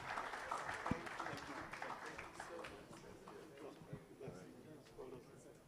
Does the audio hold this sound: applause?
yes